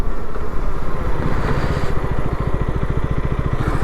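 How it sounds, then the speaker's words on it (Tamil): A KTM Duke 250 gen 3 motorcycle rides hard at speed for a braking test, with a loud, steady engine drone that turns into a fast, rhythmic pulsing thump in the second half, and no talking. "இருங்க, ஓரளவுக்கு வேகமாக போய் பிரேக் அடித்து பார்ப்போம்"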